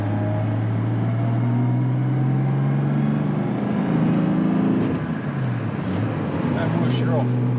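A Jaguar E-Type engine idles with a low, steady rumble, smoothing out and settling, heard close up with some faint clicks and rustles around it.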